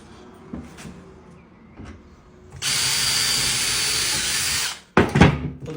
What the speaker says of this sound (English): At top, drill it, screw it, and that's it.